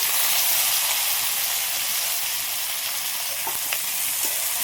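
Onion, garlic, chopped elephant-foot yam stalks, potato and a little eggplant frying in a pan, a loud, dense, continuous sizzle and hiss close up, with faint stirring clicks underneath.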